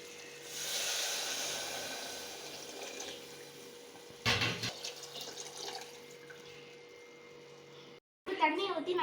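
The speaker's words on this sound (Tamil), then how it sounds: "தண்ணியை ஊற்றி நல்லா கொதிக்க விடணும்." Water is poured into a pan of vegetables for vegetable rice, giving a steady splashing flow for several seconds and a short louder burst midway before it stops; a voice speaks right at the end.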